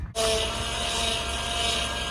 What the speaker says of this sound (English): power steering sounds like this.